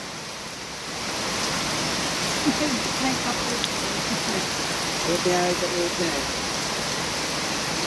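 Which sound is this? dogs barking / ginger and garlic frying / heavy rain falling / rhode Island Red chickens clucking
heavy rain falling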